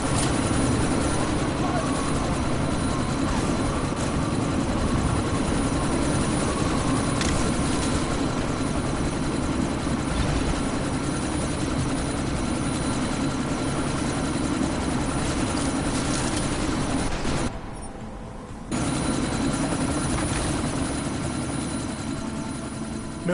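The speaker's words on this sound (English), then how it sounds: "you need to disable that chopper" Helicopter in the game Deus Ex: Mankind Divided, a loud, dense rotor drone holding steady through a sandstorm, with a brief dip near the end before the roar resumes.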